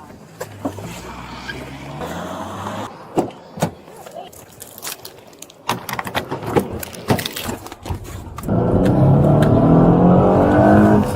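A fleeing driver's car takes off from a police stop, engine revving and accelerating amid shouting and radio chatter, with a louder, steadier engine roar building near the end.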